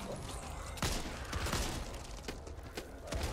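Machine gun fire in the zombie shooter Back 4 Blood comes in several sharp, rapid bursts of shots, fairly faint overall against a busy game background, with no speech.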